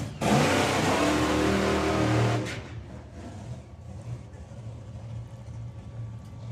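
Altered drag racing car blasting off at Santa Pod Raceway, a very loud, harsh engine roar for about two seconds that cuts off abruptly, leaving a lower background rumble and distant engine noise.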